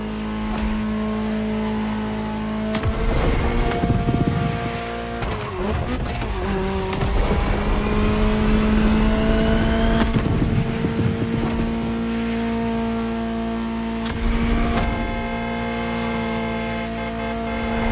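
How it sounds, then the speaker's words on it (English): A Ferrari 499P race car engine in the video game The Crew Motorfest drones and revs steadily, pitch rising and falling through gear shifts, loud and close, with bursts of mechanical noise throughout. "Just listen to the car you're driving."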